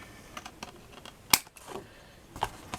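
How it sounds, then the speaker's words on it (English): Scissors snipping the end off a paper gift card envelope: a few sharp, close cuts, one especially crisp, with light paper handling between them. "And then snip that end out."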